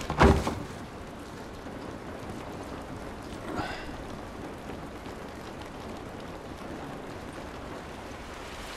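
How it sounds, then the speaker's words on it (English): Steady rain falls in The Last of Us Remastered, a dense, even hiss that continues throughout. A sharp thump opens it and a faint rustle sounds midway. "This rain ain't gonna do us any good."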